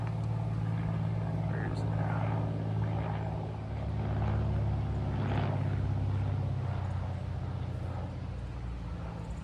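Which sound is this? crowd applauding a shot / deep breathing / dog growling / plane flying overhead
plane flying overhead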